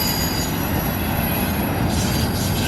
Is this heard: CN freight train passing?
yes